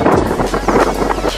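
Strong wind in Greece buffeting the microphone in loud, rough gusts, a rumbling roar that surges and fades without pause.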